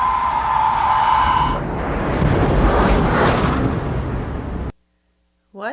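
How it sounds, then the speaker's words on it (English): Torpedo impact explosion in the submarine film The Hunt for Red October: a loud, sustained rumbling blast with broad roaring noise that swells and then cuts abruptly to silence near the end. "Torpedo impact."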